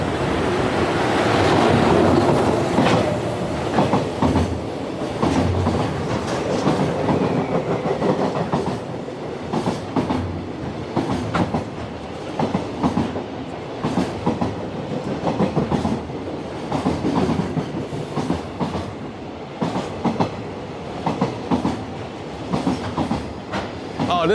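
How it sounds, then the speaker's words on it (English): The Momotaro freight train passes in Japan with a long, steady rumble and continuous rapid clickety-clack of wagons over rail joints, fairly close and loud throughout. "This is the Momotaro, the freight train."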